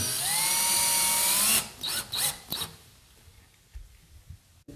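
A power drill whines briefly at high speed while driving a screw into a spacer during flooring installation, then stops, followed by a few soft knocks and handling sounds.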